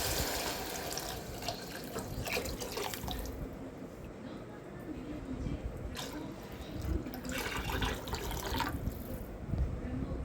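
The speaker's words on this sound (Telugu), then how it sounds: "2 లోటాలు నీళ్ళు పోసుకుందాం." Water from a lota is poured into a pot of chole biryani on the stove, a steady splashing flow that runs close and fairly loud for several seconds with some clatter mixed in.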